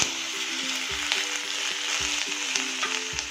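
Chopped tomato sautés in a pan, a steady close sizzle and crackle of frying with a few soft scraping stirs at regular intervals, no voices.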